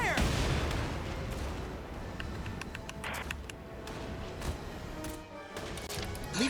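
Gunfire and artillery blasts from the Valkyria Chronicles 4 video game, a dense run of sharp cracks and booming impacts over a rumbling battle din, with brief shouted voice lines.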